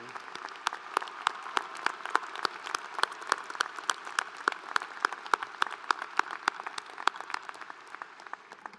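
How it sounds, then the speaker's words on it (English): Audience applause at a fall commencement ceremony, a steady crowd of clapping hands ringing out with sharp individual claps over a dense wash, sustained at even loudness with no talk. "A round of applause for everyone."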